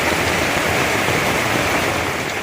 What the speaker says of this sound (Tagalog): nagpasilong lang ako dahil hindi pa rin po tumigil yung ulan